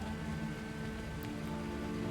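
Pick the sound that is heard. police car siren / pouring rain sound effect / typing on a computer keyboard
pouring rain sound effect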